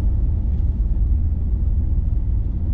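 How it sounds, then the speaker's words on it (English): Inside a 2014 Mercedes-Benz S63 AMG with a V8 cruising at about 60 km/h, a steady, muffled low road and engine rumble fills the quiet cabin without any voices. "we're just driving around about 60 k's, and it's very quiet in here. You wouldn't even really know you're driving a V8."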